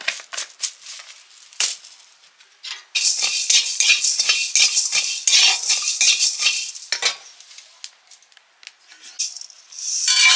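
Garam masala and cumin are dry roasted in a pan while being stirred, producing bursts of close scraping and rattling clicks, with a louder busy stretch in the middle and brief quiet gaps between.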